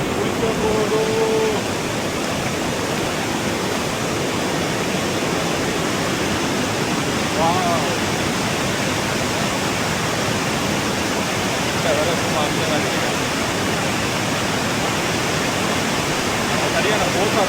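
Steady, dense roar of a waterfall pouring down at Alasteen Rock, continuous and loud throughout, with a few faint voices briefly audible beneath it.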